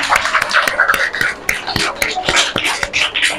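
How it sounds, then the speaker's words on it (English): Children in a pre-school classroom clap together during a lesson, producing a dense, irregular patter of many small hands that runs continuously and fairly loud throughout. "Clapping for Shayan"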